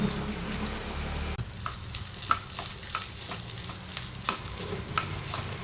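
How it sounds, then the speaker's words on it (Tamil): Spices and a handful of grated coconut roast lightly in a pan for sambar, giving a continuous close crackling sizzle with scattered small pops and a brief dip early on. "எல்லாத்தையும் போட்டு லைட்டாக வறுக்கணும்"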